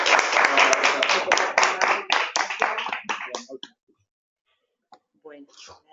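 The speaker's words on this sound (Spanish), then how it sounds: "pues un aplauso" A small audience at a Granada Developer Group meetup claps after a talk on Custom Metadata, with distinct nearby hand claps that thin out and stop within about four seconds, followed by brief talk.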